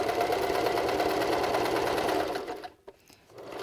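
A sewing machine runs steadily, stitching down the side of a surgical face mask with elastic at the corners, then stops abruptly near the end with a brief clatter before resuming faintly.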